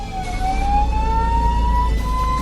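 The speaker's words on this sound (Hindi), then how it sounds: "इंटरस्टेट रूट पर हाथी को रोकने के लिए एम्बुलेंस ड्राइवर सायरन और हॉर्न बजाने लगा" An ambulance siren wails steadily on a road where an elephant blocks the way, its tone slowly rising, loud and close with engine rumble underneath.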